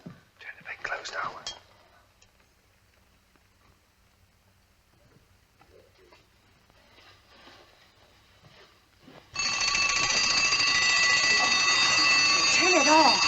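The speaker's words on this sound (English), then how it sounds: "I'll set the alarm." An alarm clock bursts into loud, continuous ringing partway through, after a stretch of quiet room noise with faint whispering and low voices near the start.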